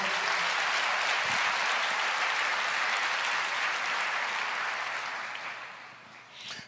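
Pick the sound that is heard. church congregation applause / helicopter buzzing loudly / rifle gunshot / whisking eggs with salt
church congregation applause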